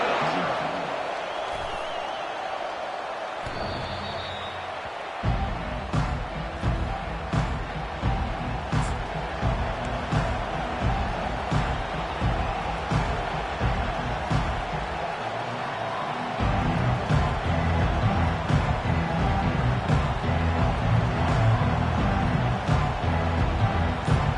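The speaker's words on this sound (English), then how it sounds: "This crowd bringing the energy and noise early." A large stadium crowd in an NCAA football video game roars steadily in the background, the din swelling louder toward the end.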